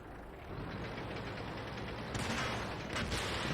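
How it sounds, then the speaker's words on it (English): Artillery shells landing in a tank battle video game, a steady rumbling barrage of dull booms and crackling impacts that grows louder and denser toward the end, with no voices. "Artillery is going in on his last known position"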